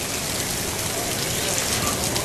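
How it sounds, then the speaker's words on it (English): Steady heavy rain falls outdoors at a sculpture unveiling, a dense, even hiss filling the whole moment with no talk. "not even the rain could put a damper on this"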